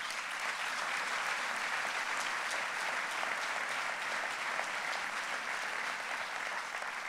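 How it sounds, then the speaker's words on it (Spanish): Steady, sustained applause from a large crowd at a political assembly in Donostia, dense clapping filling the whole stretch without letting up. "un aplauso para todos ellos y todas ellas"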